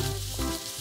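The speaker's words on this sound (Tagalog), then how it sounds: "gisahin lang natin siya ng konti" Steady sizzling of carrots and other vegetables sautéing in oil in a pan, close and continuous.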